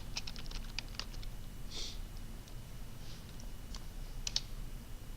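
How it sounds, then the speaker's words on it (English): Soft, rapid clicking of fingers typing on a computer keyboard, a quick irregular patter of keystrokes with a few sharper taps, faint and close over low background hum. "you can type in your name or whatever"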